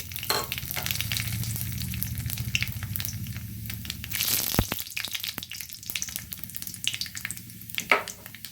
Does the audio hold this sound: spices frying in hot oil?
yes